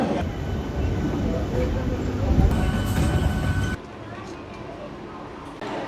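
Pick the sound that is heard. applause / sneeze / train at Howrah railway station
train at Howrah railway station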